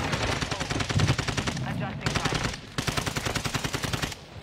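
Rapid automatic gunfire in a multiplayer shooter video game rattles in long, dense bursts with a short break between them, loud and close.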